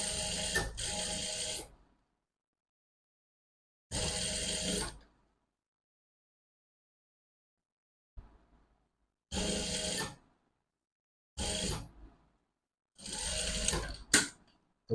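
A sewing machine stitches along the edge of a kaftan seam in short separate bursts of fast mechanical whirring, broken by silent pauses and a few soft clicks.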